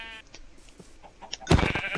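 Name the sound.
sheep bleating in Minecraft video game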